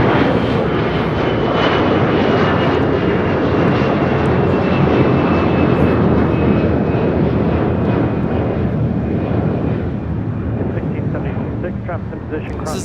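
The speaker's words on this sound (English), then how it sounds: "This is Air Canada 792 taking off to Toronto on an A321" An Air Canada Airbus A321 takes off from LAX bound for Toronto, a loud, steady jet-engine roar that fills the whole stretch with a faint whine on top, while a person talks over it.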